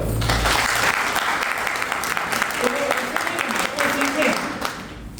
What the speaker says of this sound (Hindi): अभी जितने हमारे रिस्पेक्टेड राइटी अचीवर मंच पे आए थे उनके लिए एक बार ताली बजाओ।